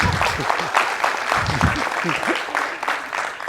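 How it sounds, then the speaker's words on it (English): Audience clapping in a string quartet workshop on Haydn's "Rider" quartet, a lively burst of applause from a room of listeners, with some voices and low murmurs mixed in as it gradually fades. "Get a little applause."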